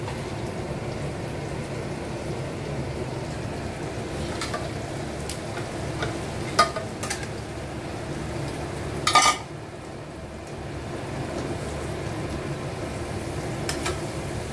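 Chital fish head frying in a small wok with fried onion, tomato, ginger, chili and spices, giving a steady low sizzle with occasional utensil clinks and one sharper clatter, no talking.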